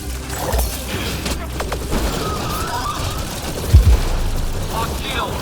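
Enemy gunfire in the Mass Effect Andromeda video game, a steady wash of combat noise with scattered shots and one heavier boom midway, under game voices calling out warnings.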